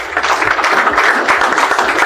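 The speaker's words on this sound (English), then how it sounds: "And I think that that deserves a round of applause because that's a lot of hard work." Audience applause at a LECOM ambulatory surgery center event, a steady dense patter of many hands clapping at an even level for about two seconds with no voices over it.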